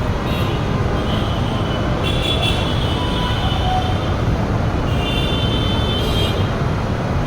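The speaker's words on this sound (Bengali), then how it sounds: "দেখছেন যানজটের অবস্থা" Evening traffic jam in Dhaka at the Sonargaon intersection, beneath a metro station: a dense, continuous roar of engines and road noise, with brief higher horn-like tones rising out of it now and then.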